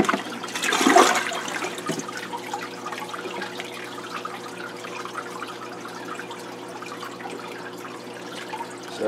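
Five gallons of mixed saltwater at 1.008 specific gravity pour into an aquarium during a water change. It opens with a loud gushing splash, then settles into a steady, softer flow of running water.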